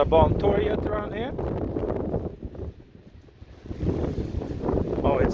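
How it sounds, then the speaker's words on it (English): Strong wind buffets the microphone on a Stockholm city street near Norra Bantorget, a broad rumbling roar with gusts that ease briefly then surge again, while voices talk over it. "Oh, it's so windy."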